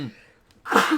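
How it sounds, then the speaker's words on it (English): A single loud sneeze bursts out close to the microphone after a brief indrawn breath, from a commentator during a League of Legends esports broadcast. "hope I don't sneeze too loudly"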